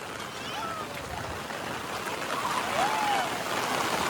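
Floodwater surges through a swollen creek as a broad, constant rushing wash that swells slightly toward the end, with faint voices nearby.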